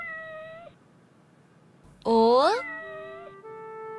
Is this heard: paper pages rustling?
no